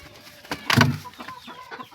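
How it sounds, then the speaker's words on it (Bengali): Sonali chickens on a poultry farm give a short burst of clucking, one loud close call near the middle with a few softer clucks around it. "এটা সোনালি মুরগি আছে বন্ধুরা, এটা সোনালি মুরগির খামার আমার।"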